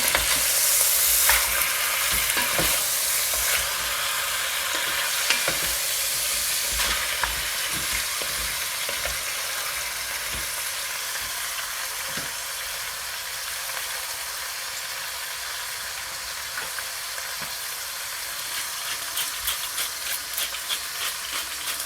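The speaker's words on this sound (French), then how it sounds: "nous allons bien remuer la viande" Ground beef for hachis parmentier sizzles in a frying pan as it is stirred, a sustained frying hiss broken by scraping clicks of the utensil, with no voices.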